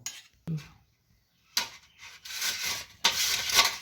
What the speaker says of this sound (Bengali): ধুয়ে গ্রেটারের সাহায্যে গ্রেট করে নেব